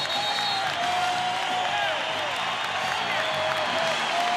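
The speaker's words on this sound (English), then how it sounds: "The crowd getting up for their big moment that they hope the Lakers can come back here" Arena crowd at the 1989 NBA Finals Game 3, Detroit Pistons versus Los Angeles Lakers, roaring and cheering steadily as a dense continuous wall of voices with a whistle tone riding over it, loud and sustained throughout.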